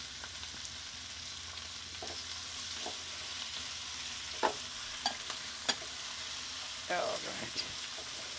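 Onion and curry leaves fry in a pan, a steady close hiss of sizzling oil broken by a few sharp stirring scrapes and clicks, with a brief spoken word.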